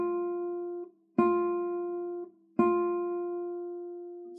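Nylon-string classical guitar plucked with the left side of the fingernail: a note already sustaining, then two more clean plucks about a second and a half apart, each ringing and decaying, close-miked with no voices.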